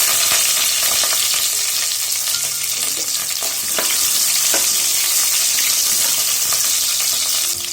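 Ten small onions, two green chillies and a sprig of curry leaves sautéing with urad dal in a hot pan, a loud continuous sizzle with occasional stirring scrapes and no talk.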